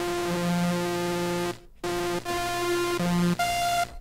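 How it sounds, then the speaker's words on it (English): Synth release lead built from a saw wave frequency-modulated by noise in a Virus TI, Viper or Sylenth1-style patch, heard as a few short held buzzy notes with gaps, the last one jumping higher. "a saw wave being frequency modulated by some noise"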